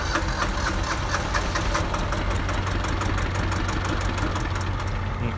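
A Ford 1110 tractor diesel runs at full throttle with a loud, steady, knocking rattle and fast regular clatter close to the mic. It fades slightly near the end.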